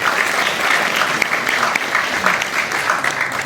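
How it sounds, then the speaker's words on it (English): An audience at a European literature festival event in Delhi claps steadily and loudly throughout, a dense round of applause with no voices standing out. "a big round of applause also for my great colleagues who've been working like crazy to have you"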